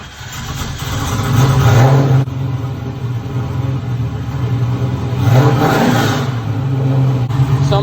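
Engine of a 1970 Chevrolet Camaro Ringbrothers muscle car revving up and easing back in a couple of loud, deep, rumbling swells close by, with no one talking over it.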